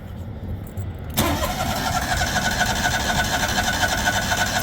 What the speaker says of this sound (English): Come on, Kohler engine, there we go.